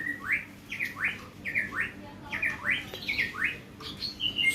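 White-rumped shama, a murai batu songbird, calling in a repeated series of bright, rising whistled phrases with short gaps between them, loud and close, with no voices.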